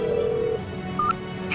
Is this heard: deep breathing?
no